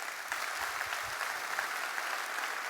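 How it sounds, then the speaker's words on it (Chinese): Audience applause fills a corporate speaking event, a steady, even patter of many hands clapping at moderate volume that carries on without a break. "我们给台湾人一个掌声"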